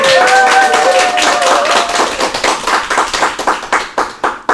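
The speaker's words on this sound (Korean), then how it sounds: "박수 치라고 한 건데." Listeners at a Buddhist monk's lecture clap together, first a dense burst of close hand claps that thins into separate, spaced-out claps and trails off toward the end.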